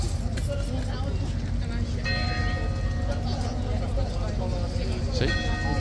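A bell rings at Horse Guards in London, a few clear chimes heard at a distance over loud street noise and crowd chatter.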